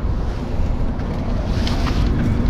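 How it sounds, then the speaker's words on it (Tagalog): Strong wind at sea buffets a small motorized boat, a loud continuous roar of gusts and rushing water with low rumble underneath and no voices. "Lumalakas na rin po ang hangin."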